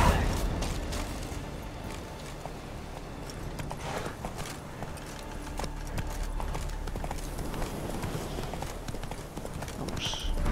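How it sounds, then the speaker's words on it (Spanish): Horse hooves clip-clop steadily in The Witcher 3: Wild Hunt on PC, a continuous rhythmic trotting that sits prominently throughout with faint creaks and game ambience. "Caballo, caballo, ven aquí, ¿dónde estás?"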